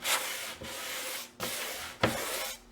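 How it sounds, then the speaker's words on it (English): Three rough sanding strokes rasp against a painted wood sign, each a broad scratchy burst with brief pauses between, close and steady. "you can add a little bit of extra sanding somewhere, or you can sand and even it out"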